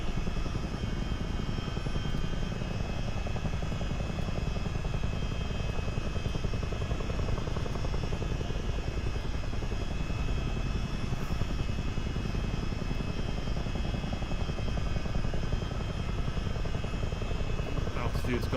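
The engines and rotors of a CH-47D Chinook helicopter drone steadily in a flight simulator game, a dense, loud, unbroken throbbing roar from start to finish.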